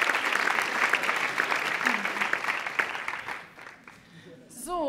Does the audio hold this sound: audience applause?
yes